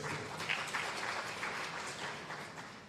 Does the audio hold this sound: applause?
yes